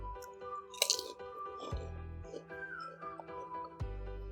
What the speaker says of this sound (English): It really looks like fish crackers or Kropek, and it's so crunchy.